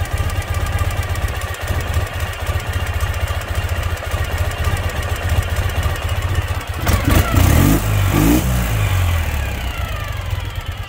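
A 2012 Ural Tourist sidecar motorcycle, one-wheel drive, idles steadily close by with a loud, even, low throb, and a brief rise in engine note appears mid-clip as the idle is adjusted.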